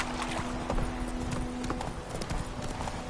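Roach, Geralt's horse in The Witcher 3, runs with steady clip-clop hoofbeats close by over a continuous outdoor game ambience, with a low sustained hum underneath.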